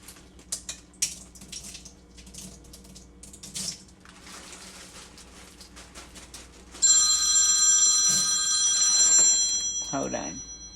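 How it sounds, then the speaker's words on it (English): A telephone bell rings loudly in a home kitchen while pinto beans and ham hocks are being prepared, its bright repeated ringing arriving late and standing out over earlier scattered clatter and talk. "Sorry about that. I had to answer the phone."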